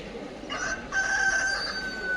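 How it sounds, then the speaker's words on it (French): A rooster crows in the narrow streets of the Fes medina in Morocco, one drawn-out call that rises and holds before trailing off, fairly clear over a quiet background. "On a le coq qui nous souhaite la bienvenue."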